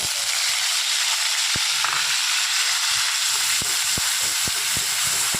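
Garlic and chili fry in hot oil in a pan, making a loud, steady sizzle throughout, with a few soft clicks from stirring.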